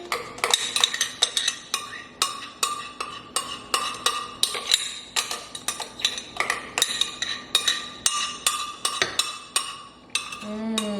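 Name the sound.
spoon scraping food out of a blender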